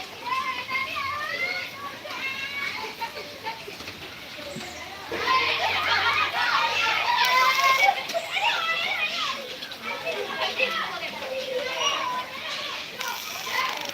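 Children play and bathe outdoors in heavy rain, their high voices calling, shouting and chattering continuously at middle distance, with faint splashing of water beneath.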